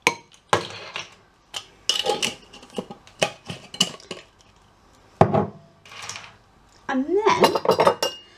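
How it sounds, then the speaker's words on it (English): A spoon stirring chia seeds into custard overnight oats in a bowl: repeated close clinks and scrapes of metal against the dish in uneven bursts, with a brief spoken phrase partway through. "just mix all that through until it's smooth, so you've not got any lumps in there"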